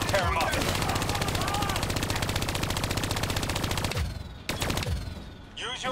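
Hijacked turrets in Call of Duty Black Ops 3 pour out rapid sustained machine-gun fire, loud and dense for about four seconds, then sparser bursts follow.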